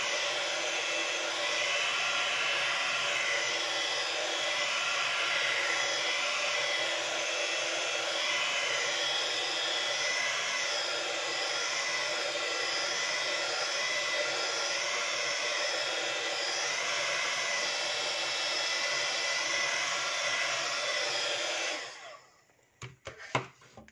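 A hair dryer blows steadily and loudly for about twenty-two seconds, drying thick watercolor paper, then cuts off abruptly, leaving a few faint handling clicks.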